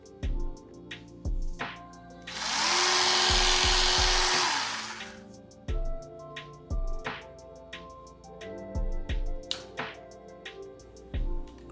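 DURATECH 12V cordless electric fillet knife running in short repeated bursts, a steady buzzing motor hum broken by clicks and one longer, louder harsh whirring stretch in the middle.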